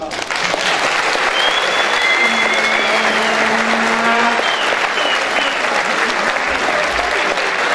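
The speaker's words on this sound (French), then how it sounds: "Donc applaudissez-vous." Audience applause at a school's integration-week closing ceremony in a hall, loud dense clapping sustained across the whole stretch with a faint voice briefly over it.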